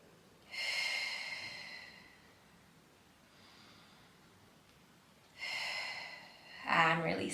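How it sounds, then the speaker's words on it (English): Two deep, audible breaths, each a long drawn inhale-exhale in a quiet room, taken during a Pilates lateral breathing exercise. A softer breath falls between them, and a voice starts speaking at the end. "taking a few more breaths here with some low-level core engagement"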